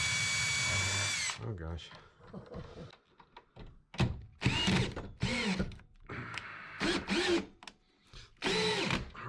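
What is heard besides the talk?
power drill driving screws into bathroom floor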